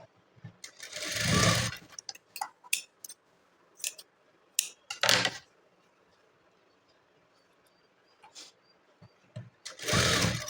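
A sewing machine joins blouse pieces in short, separate bursts of whirring stitching. A longer run comes near the start and another at the end, with brief clicks and handling noises between them and no speech.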